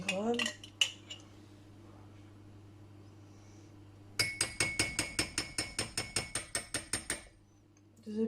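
Dishes and utensils clattering while preparing a Piedmont-style salad: a couple of sharp clinks, a quiet pause, then a rapid run of about a dozen regular metallic clacks, like a whisk striking a bowl, before stopping.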